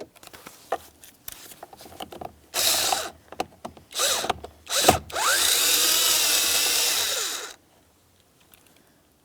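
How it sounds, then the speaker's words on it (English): Power driver with a T25 Torx bit backing out the mounting screws on the ignition starter switch of a 2007-2014 GMC Sierra 2500 HD, with several short bursts followed by a long steady whir, then silence. "you're going to be using a T25 Torx to remove each one of the 2 screws"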